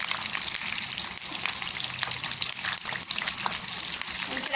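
Bangude mackerel fish fries in a pan with curry leaves, giving a steady dense sizzle with small crackles and pops throughout, close and loud with no break.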